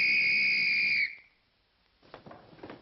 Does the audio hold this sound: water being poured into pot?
no